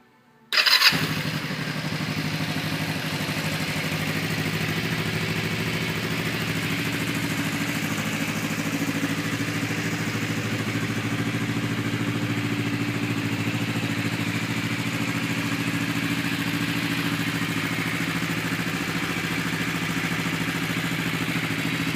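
A 2005 Kawasaki Vulcan 500 cruiser motorcycle engine fires up and settles into a steady, loud idle that runs on without change, heard up close with no voices.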